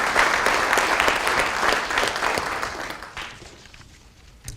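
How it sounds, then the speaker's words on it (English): A ceremony audience at a police department awards event applauds its MC with a dense burst of clapping that fades away over a few seconds. "let's give a round of applause for Jackie"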